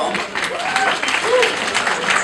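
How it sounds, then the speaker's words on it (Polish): A crowd at a spring party in Worcester claps for the club, a steady dense wash of applause filling the whole stretch at moderate loudness. "wielkie brawa dla klubu."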